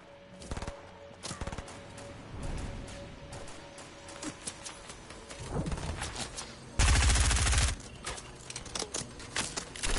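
Gunfire in the video game Fortnite, scattered shots and short bursts at moderate loudness, with one dense, loud burst of automatic fire near the middle.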